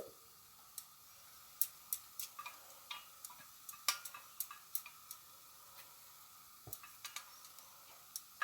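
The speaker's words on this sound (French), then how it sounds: "Et je laisse cuire mon omelette." An omelette poured over a paratha flatbread cooks on a street-food griddle, giving faint, sparse crackles and pops that stand out against a quiet background.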